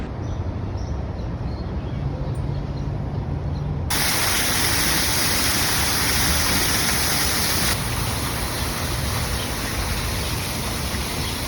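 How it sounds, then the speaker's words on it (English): Water splashing steadily from a fountain monument in hot weather in Charlotte, North Carolina, a continuous broadband rush that grows louder and denser partway through and holds steady, with no talking. "Found this really soothing water monument behind me"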